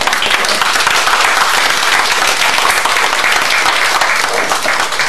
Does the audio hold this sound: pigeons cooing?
no